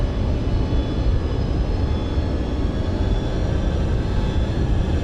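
Boeing 727 jet engines drone on approach in Microsoft Flight Simulator 2020, a steady loud low rumble with a faint high whine throughout.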